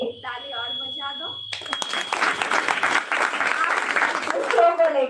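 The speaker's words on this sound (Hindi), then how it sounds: "एक ताली और बजा दो" An audience at a seminar session bursts into dense, steady clapping that runs on for several seconds, after someone speaks over a sustained electronic tone, with his voice returning near the end.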